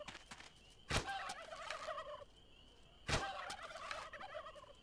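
Turkeys in How to Survive 2 gobbling, two loud rapid warbling gobble calls each lasting over a second, separated by a pause over a faint background.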